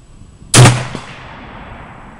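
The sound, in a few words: M39 rifle gunshot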